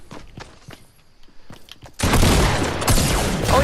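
Sustained heavy gunfire bursts out after a quiet stretch of scattered taps and footsteps, a loud dense blast of shots from a SPAS-12 pump shotgun in a battle royale video game.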